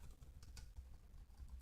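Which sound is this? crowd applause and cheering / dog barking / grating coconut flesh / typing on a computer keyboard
typing on a computer keyboard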